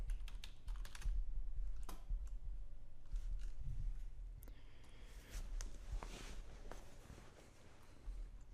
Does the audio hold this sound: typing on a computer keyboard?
yes